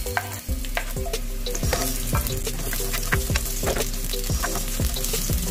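Onion frying in oil for pinakbet, a steady close sizzle with repeated stirring scrapes of a utensil against the pan at a regular pace, no talking.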